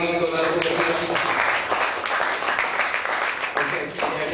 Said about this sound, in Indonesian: kita beri tepuk tangan lagi untuk narasumber